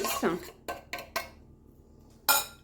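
Tuna tajine ingredients are stirred in a dish, with sharp clinks and scrapes of a utensil against the dish in a few separate bursts, close and loud, with no talking.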